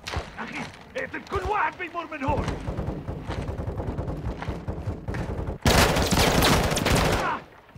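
Gunfire rattles through a Modern Warfare 2 campaign mission in repeated bursts, building into a heavy, loud, close fusillade toward the end.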